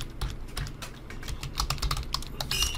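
Rapid, uneven keystrokes on a computer keyboard, close and clear, with a brief burst of brighter clicks near the end.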